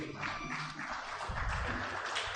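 An audience at a doctors' conference claps for a speaker, producing a steady wash of fairly quiet applause throughout.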